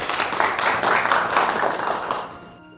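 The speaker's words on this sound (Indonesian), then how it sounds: "Tepat sekali, beri tepuk tangan." A class applauds in a lesson, a short burst of dense clapping from several people that holds steady for about two seconds and then fades out.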